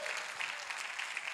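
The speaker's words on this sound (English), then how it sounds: "Give God a clap offering." A church congregation claps together in a clap offering during a prayer service, a steady dense wash of many hands filling the room at moderate level with no pauses.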